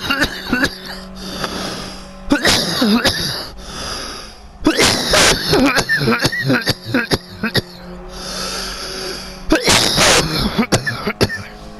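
A heavy smoker coughs hard during a GT Sport online race, with several harsh, close bursts of hacking and throat-clearing separated by quieter stretches.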